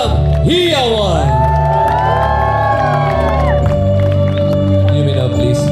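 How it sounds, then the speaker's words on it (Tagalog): Wedding guests at the Aquila Crystal Sky venue in Tagaytay burst into loud cheering and whooping after the couple's kiss, a full crowd roar with shouts over sustained musical tones. "Malakas na palakpakan po na may kasamang Hiyawan!"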